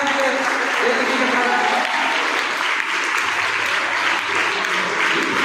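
Loud, sustained applause from a school audience at a science day prize distribution, steady clapping filling the whole stretch without a break.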